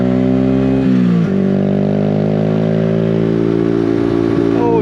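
Yamaha MT-125 motorcycle being ridden, its engine a loud continuous drone that holds steady, dips briefly as a gear shifts, then climbs again in pitch, heard up close from the rider's position.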